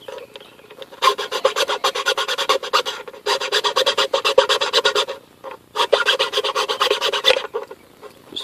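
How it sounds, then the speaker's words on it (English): A hand file rasps at the flat edges of a hole in a broken plastic boat and RV light housing, with three close runs of rapid rhythmic scraping strokes separated by short pauses. "Just filing these, flat surfaces out a little bit."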